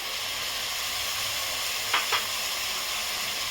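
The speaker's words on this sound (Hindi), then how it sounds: "इसे पहले थोड़ा मैं मिला लेती हूँ" Tomatoes, potatoes, carrots and beans for pav bhaji frying in a pan over low gas, a constant close sizzle with two quick scraping strokes of the spoon partway through.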